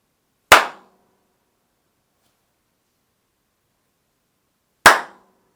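Two sharp hand claps ring out in a controlled home recording studio, a few seconds apart, each a loud crisp snap that dies away quickly with little room echo, with silence between them.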